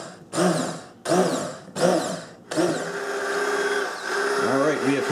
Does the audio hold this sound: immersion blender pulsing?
yes